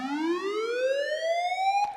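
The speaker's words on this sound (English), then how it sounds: "it's that kind of slow siren sound" Slow police-style siren built in the Vital synthesizer: one bright, buzzy tone rises smoothly in pitch at a steady level, then cuts off with a short click at the end.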